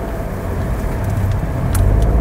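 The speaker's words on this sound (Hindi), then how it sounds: "तो ये अभी हम गाड़ी चालू कर चुके हैं और गाड़ी थोड़ा चला रहे हैं" A 2024 Maruti Suzuki Swift ZXI Plus is driven, its engine and road noise forming a steady low rumble heard from inside the cabin, with no talk.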